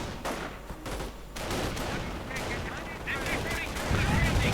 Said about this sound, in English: Lots of riflemen able to fire out, and they of course will be enjoying garrison cover